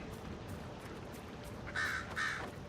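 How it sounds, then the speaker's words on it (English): Birds of prey in the Dragon Age Inquisition video game give two short, harsh calls in quick succession late on, set against a steady low ambient wash of game background. "Some birds of prey over there."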